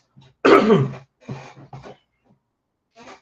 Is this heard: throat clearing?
yes